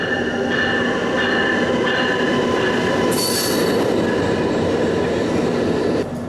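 Amtrak Acela trains rolling toward a station platform, a loud, steady rumble of wheels on rail with high metallic squealing and faint rhythmic clicking, heard close by throughout.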